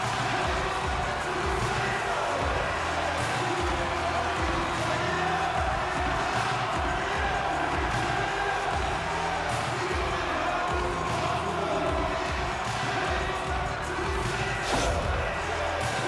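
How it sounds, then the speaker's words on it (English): Arena crowd in the NHL 25 hockey game cheering after a goal, a broad steady roar that holds at an even level throughout, with a few faint thuds and a soft voice now and then. "Carolina's on the board. The crowd's loving it."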